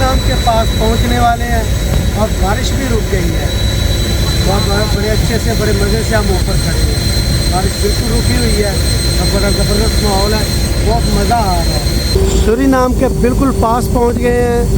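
A ferry engine drones loud and steady throughout the river crossing from Guyana to Suriname, a constant heavy rumble with a faint high whine, while someone talks over it nearly the whole time.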